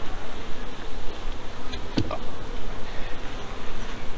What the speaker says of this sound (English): Looking at the bees that are on the board,